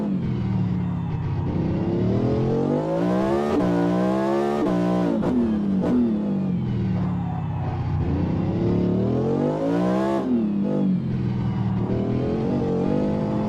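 A Cadillac V-Series rEvo hypercar engine screams from the cockpit in a sim racing game on a Detroit street circuit, revving up through the gears and dropping sharply on downshifts in repeated loud, close sweeps.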